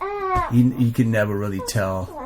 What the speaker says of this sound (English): the baby is moaning for some reason